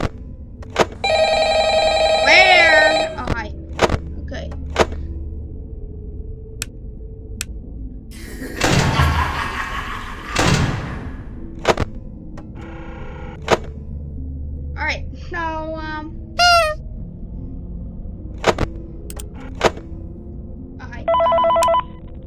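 A phone rings in the video game Ultimate Custom Night, a bright trilling bell heard in short bursts among clicks, knocks and game noises, with a voice speaking in the middle.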